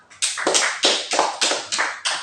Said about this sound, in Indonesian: Sekali lagi tepuk tangan untuk kelompok A.